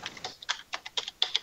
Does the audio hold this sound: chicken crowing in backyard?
no